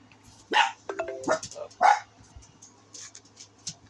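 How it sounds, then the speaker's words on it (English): Several sharp, close dog barks burst out in a quick cluster, followed by fainter yips and whimpers, with no speech over them. "I hope you didn't hear my dogs there, but if you did,"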